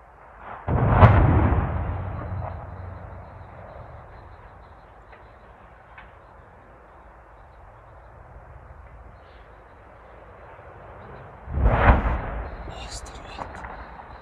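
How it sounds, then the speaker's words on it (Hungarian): A chimney demolition blast: a deep, booming explosion erupts early, then a low rumble fades into quiet murmuring before a second heavy boom follows near the end. "fel fogják robbantani ezt a kéményt"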